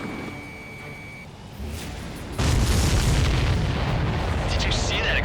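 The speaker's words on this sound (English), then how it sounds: "Did you see that explosion?" A ship blows up in the Ace Combat 7 flight game with a sudden deep boom that swells into a loud sustained rumble, preceded by steady engine drone and a brief tone.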